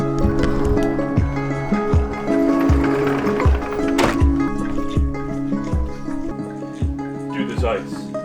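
People plunge into a freezing cold plunge pool in Iceland, water splashing and sloshing around them under loud excited talk and shouting, with rhythmic thumps throughout.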